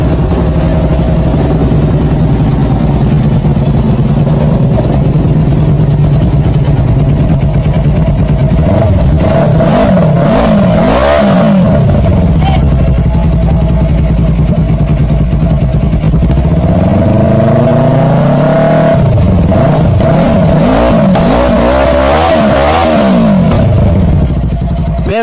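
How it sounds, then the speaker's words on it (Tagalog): A Rusi 400cc super sports motorcycle idles loudly up close, then its engine is revved twice in rising and falling sweeps before settling back to idle. "pakinggan nyo yung sound check ng motorsiklo na ito"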